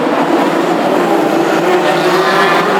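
Hot rod race cars at Wimbledon Stadium pull away together in a league heat, a dense, loud, steady roar of many engines filling the air without pause.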